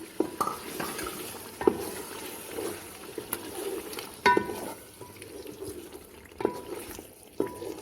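Yogurt being stirred into chicken pulao in a cooking pot, with soft scraping and clinks of a spoon against the pan over a quiet, steady background, no talking.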